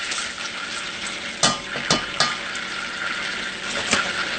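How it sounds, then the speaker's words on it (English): Flour being stirred steadily into a hot pot for a gumbo roux, with a continuous close sizzle and frying hiss broken by a few sharp scraping strokes of the spoon. "the trick to this is to continue to stir"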